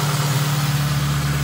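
A 1984-1987 Honda Civic/CRX engine idles low and steady, a close continuous hum with an even pulsing rumble, no voices.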